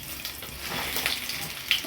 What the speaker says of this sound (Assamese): সেই তেলখিনি এতিয়া মই কেৰাহীত আকৌ ইয়াক ভাজিম।